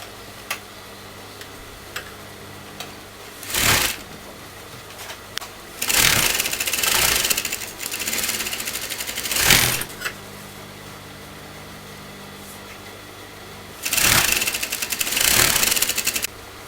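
A sewing machine stitches golden kurta fabric in short bursts of steady whirring, separated by pauses filled with a quiet hum.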